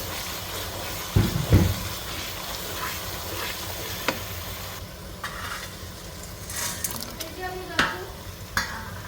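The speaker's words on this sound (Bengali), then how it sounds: "মশলাটা প্রায় ভুনা হয়ে আসছে, আমার আর একটু ভুনা করে নিব আমি।" Spice masala for mutton korma fries in a pan with cumin powder, a continuous sizzling hiss broken by scraping stirs and a few spoon knocks, heard close with no talk.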